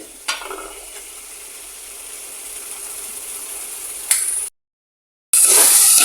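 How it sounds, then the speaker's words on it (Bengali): Ginger-garlic spice paste sautéed in oil for a bitter gourd and pangas fish curry, a steady soft sizzle with a couple of sharp scrapes, a brief silence, then a louder burst of frying. "দেখো কষাতে কষাতে তেল বেশি হচ্ছে আর আদা রসুনের কোনো গন্ধ নাই"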